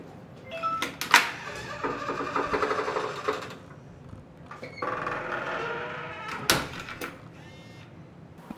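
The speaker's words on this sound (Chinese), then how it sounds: "开门的声音给大家仔细的录一下" A Xiaomi M20 Pro smart door lock operates alone at close range, with two bursts of whirring motor noise broken by sharp clicks and latch clunks as the door unlocks and opens.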